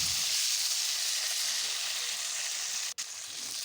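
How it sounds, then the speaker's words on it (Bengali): Cauliflower pieces fry in hot oil with a dense, bright, continuous sizzle, close and steady, briefly cut by a momentary dropout near the end. "ফুলকপিগুলো তেলের মধ্যে দিয়ে দিলাম।"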